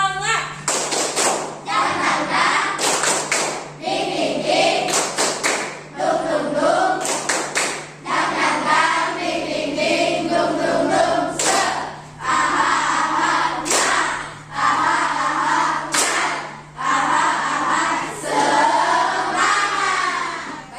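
Children in a classroom perform the tepuk semangat clapping chant, rhythmic bursts of hand claps and taps alternating with group chanting voices, loud and close throughout.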